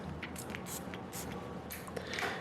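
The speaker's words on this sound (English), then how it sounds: "I'm going to spray this one on me, and I'm going to spray the samples on strips." Several short, close sprays from a Louis Vuitton Orage fragrance atomizer, quick soft hissing puffs in an uneven rhythm, quiet against a faint background with no talk.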